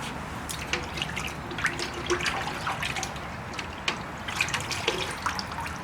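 Tap water running and splashing over a freshly dressed quail in a sink, a steady gush with irregular drips and splatters close by.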